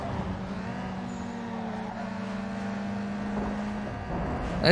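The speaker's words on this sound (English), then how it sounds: "what an interesting sounding exhaust off the thing" A small hatchback's exhaust in the racing game Need for Speed Underground 2, a steady droning engine note held close and loud throughout, rising slightly at the end.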